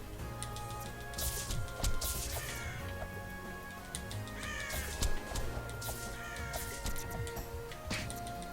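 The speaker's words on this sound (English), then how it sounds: "Screw those crows." Crows caw repeatedly and harshly in the video game Touhou Scarlet Curiosity, heard through busy game music and combat sounds with sharp hits and crashes.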